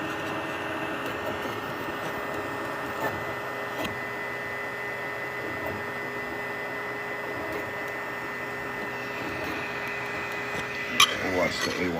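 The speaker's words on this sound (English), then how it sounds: "We'll watch the A1 run through its pre-print process." A Bambu Lab A1 3D printer runs its pre-print calibration routine, giving a steady mechanical hum with faint whirring tones and occasional small clicks, ending in a brief sharper clatter.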